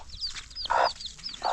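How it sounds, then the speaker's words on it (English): A hen clucks softly in short bursts while her chicks cheep in high, repeated peeps close by, with no talk. "Mama and mother and chick. Hen and chick."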